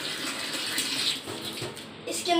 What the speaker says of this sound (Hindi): हमें एक कप में पानी भरना है